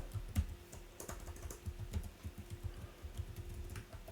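Soft, quiet typing on a computer keyboard on a Windows 11 PC, a steady patter of light key taps close by, evenly spaced over a few seconds with no voices.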